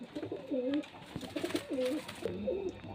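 Pigeons for sale coo repeatedly in soft, rolling phrases, close by, over a faint background murmur.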